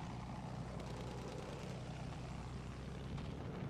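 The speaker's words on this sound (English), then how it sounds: "I don't know where the plane went." A propeller plane drones steadily overhead in Battlefield 1 multiplayer gameplay, a constant low engine rumble filling the whole stretch with no talk over it.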